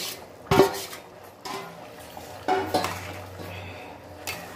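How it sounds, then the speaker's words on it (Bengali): Boiled eggs go into an egg curry gravy in a pot on a home kitchen stove. Several sharp clanks and knocks of utensil against the pot ring out, separated by quieter bubbling and handling sounds. "আমার ডিমের কারির যে ঝোলটা সেটা রেডি হয়ে গেছে, আর এবার আমি ডিমগুলো সব দিয়ে দিচ্ছি।"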